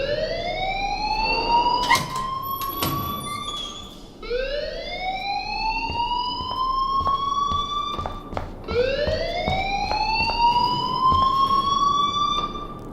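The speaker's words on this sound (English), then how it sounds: "please turn off that alarm since that's your job" An alarm siren blares in the video game Life is Strange, three long rising wails in a row, loud and close, with sharp clicks and bumps scattered through it.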